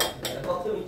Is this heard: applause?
no